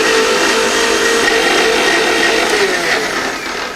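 A mixer grinder blends lemon mint juice with added water, a loud, steady whirring drone running continuously and easing off slightly at the very end.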